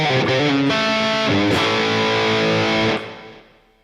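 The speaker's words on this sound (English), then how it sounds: "let's have a listen to the Plicator Dirty, which is based on a Friedman BE100." Distorted electric guitar through a Line 6 HX Stomp Plicator Dirty amp model based on a Friedman BE100, with Klon-style overdrive, reverb and delay, strikes a few loud chords that ring out and then fade away.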